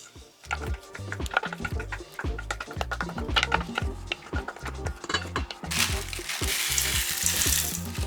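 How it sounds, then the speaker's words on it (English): Pumpkin scone dough is stirred in a bowl with a wooden spoon, making dense, rhythmic scraping and knocking strokes close up, with a rougher rubbing texture toward the end. "Mixing this in this bowl."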